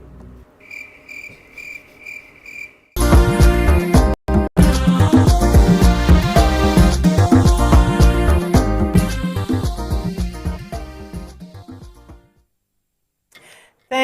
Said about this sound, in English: So, editor, you can put that cricket sound there.